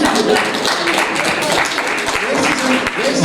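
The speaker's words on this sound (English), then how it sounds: "let us not engage on the clapping of hands because it's going to cause a disruption" Audience in a political party debate hall claps and murmurs in a steady, crowded wash of applause, with voices chattering underneath throughout.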